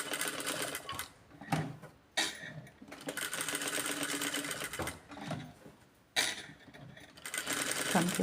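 A sewing machine stitches fabric in several bursts of rapid mechanical whirring, briefly pausing between runs, close and moderately loud.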